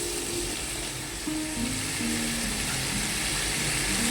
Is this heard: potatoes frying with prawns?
yes